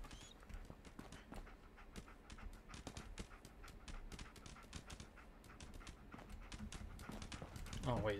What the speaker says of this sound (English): Good dog.